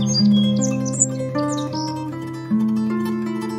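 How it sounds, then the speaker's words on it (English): A sparrow gives a few short, bright chirps over a steady background of music. "Sparrow."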